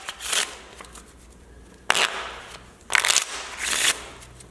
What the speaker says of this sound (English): First, we're gonna shuffle up the deck.